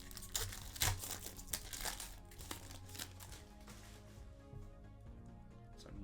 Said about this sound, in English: All right, 3 more packs out of this rip.